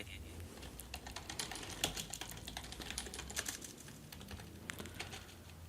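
Someone types code into a database code builder on a computer keyboard, with quick, irregular key clicks and clacks close up and fairly quiet, and no speech.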